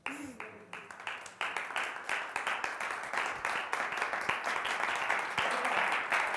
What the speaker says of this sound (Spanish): Increíble el aplauso.